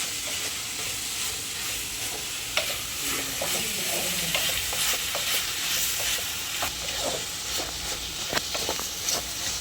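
Prawn gravy with ginger-garlic paste is stirred in a pan, a steady sizzling hiss with repeated scraping strokes of the spoon close up throughout.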